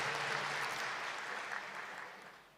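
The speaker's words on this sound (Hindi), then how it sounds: "इसके लिए आपको हम सभी विशेष ताली बजा करके अभिवादन करते हैं, अभिनंदन" Applause from a gathered audience at a spiritual assembly, a continuous, fairly soft rain of clapping that tapers off slightly toward the end.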